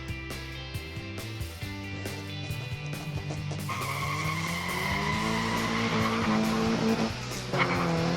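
Modified 1/64 diecast muscle cars race down a track in a semifinal heat, giving a steady whirring rumble that swells louder through the run, with tonal, music-like lines layered over it.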